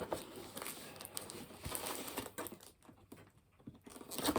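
A sharp knife slices open a cardboard parcel box, giving close, scratchy scraping, crinkling and tearing sounds in quick, uneven bursts with no talking.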